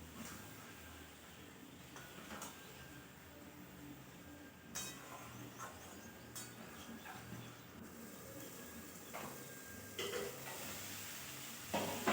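Food being stirred and sautéed in a pan in a Bengali home kitchen, with a low sizzle under intermittent scrapes and clinks of a utensil against the pan.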